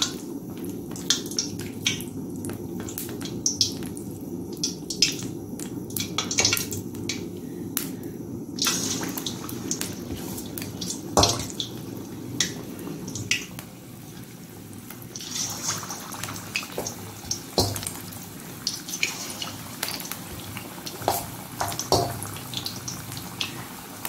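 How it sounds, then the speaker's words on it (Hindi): Chicken pakoras frying in oil in an iron wok over medium heat, a steady close sizzle with bubbling crackle and scattered sharp pops that swell as more pieces go in. "चलिए तो फिर पकौड़े डालते हैं अब हम इसमें।"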